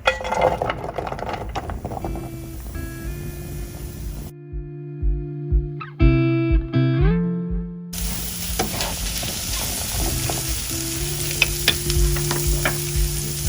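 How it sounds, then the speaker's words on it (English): Onions hitting a skillet of heated olive oil, a steady close sizzle with brief stirring, interrupted midway by a few seconds of electronic music tones before the frying hiss returns. "Once that's heated up, you're going to add your onions."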